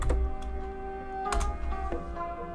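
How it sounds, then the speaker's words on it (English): Someone types on a computer keyboard, a handful of sharp close clicks spread over a steady backdrop of music and room noise. "So go ahead and type politics in there."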